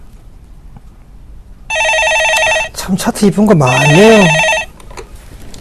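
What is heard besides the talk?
telephone ringing before a caller is answered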